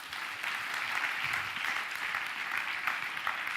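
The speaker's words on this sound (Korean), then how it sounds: "우리 박수 한번 칠까요?" A church worship gathering of university students gives a round of sustained applause, dense and continuous from a large crowd, moderately loud and swelling slightly after the first moment.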